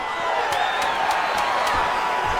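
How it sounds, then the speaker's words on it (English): A UFC 5 arena crowd roars in a sustained, loud wash of cheering during a bout, steady throughout with a few sharp thuds cutting through. "big pop from the crowd as they get back to their feet"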